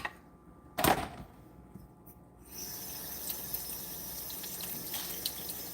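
Tap water runs steadily into a sink while bok choy is rinsed to wash off dirt, starting after a brief loud splash near the beginning and continuing as an even, close rush to the end.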